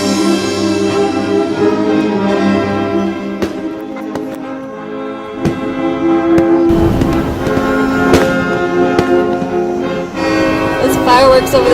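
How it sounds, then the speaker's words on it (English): Fireworks bursting over an airport on the Fourth of July, heard as scattered sharp cracks and pops across a busy, dense background, with voices in the crowd. "Fireworks over the airport."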